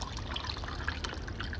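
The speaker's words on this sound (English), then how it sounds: "I shall pour you a glass of wine" Wine pouring into a glass indoors, a steady liquid trickle lasting under two seconds, close and fairly quiet, with no talk over it.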